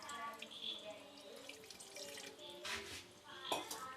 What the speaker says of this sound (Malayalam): എന്നാലും ഒരു സ്വല്പം വെള്ളം കൂടി ഞാൻ ചേർത്ത് കൊടുക്കുകയാണ്.